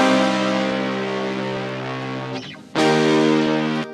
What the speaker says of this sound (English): there's one in the middle that's doing clean chords with some reverb and delay and all atmospheric